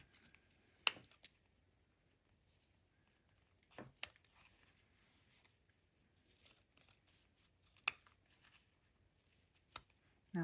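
Scissors snipping through fabric while trimming a sewn back panel to match the front, a few isolated crisp cuts spaced several seconds apart in a quiet room.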